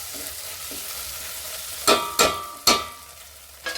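A spoon stirs macaroni with chilli sauce in a pan prone to sticking, with several sharp scraping knocks against the metal over a low, steady sizzle, close by and without talk.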